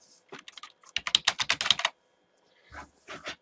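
Fingers type on a computer keyboard in a quiet room, a quick close burst of crisp key clicks followed by a pause and a few more keystrokes.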